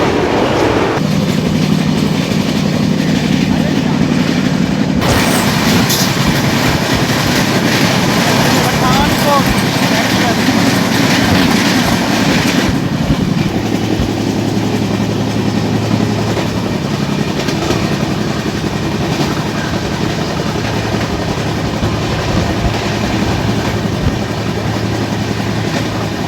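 The 14618 Amritsar–Purnia Court Jansewa Express rolls toward Ambala Cantt station, heard from on board as a loud, continuous rumble with rhythmic clickety-clack of wheels on rails and some voices mixed in.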